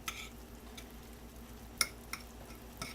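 Faint stirring of a hamburger crust mixture with beaten egg in a bowl, with soft wet scraping and a few small clinks of a utensil against the dish.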